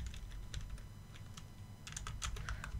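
Keyboard shortcut keys are pressed on a computer keyboard in quick, soft clicks, with a denser cluster of taps near the end, close by and alone over low background hum.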